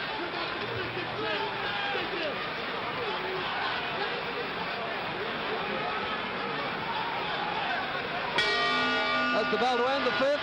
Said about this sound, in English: That's the bell to end the 5th.